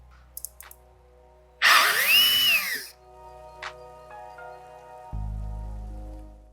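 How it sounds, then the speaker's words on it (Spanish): A power drill whines loudly for about a second, its pitch bending up and down as it bites into the metal frame of a Sherco motorcycle; light clicks come before and a low hum after. "Le haremos un taladro, un macho y un tornillo"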